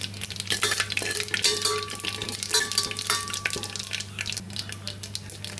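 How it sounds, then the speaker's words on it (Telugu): Mustard seeds, cumin, a little fenugreek and dried red chilies crackle in hot tempering oil for a bitter gourd pulusu. The spitting sizzle is busy and close, with fast seed pops over a low steady hum and no speech. "తాలింపులో ఆవాలు, జీలకర్ర, కొంచెం మెంతులు, ఎండుమిరపకాయలు వేసి తాలింపు వేసుకోవాలి."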